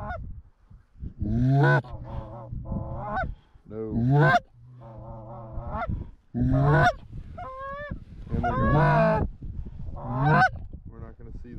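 Geese honking over a plowed corn field, a loud, close chorus of overlapping calls in several long bursts separated by brief pauses.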